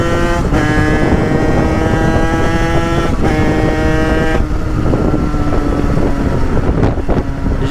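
A carburetted engine, just tuned, revs hard and loud close to the microphone with a buzzing high-rpm tone, a few quick throttle blips and pitch dips amid gusting wind noise.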